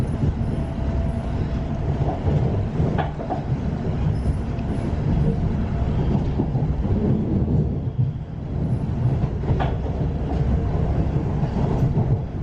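A train rumbles along the railway with a steady low roar and faint clickety-clack, close and loud throughout, with no talking.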